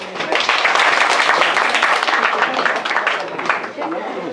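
Warm audience applause at the opening of an association's office and library in Potamoula, dense continuous clapping from a close, sizeable crowd that holds steady and tapers slightly at the end.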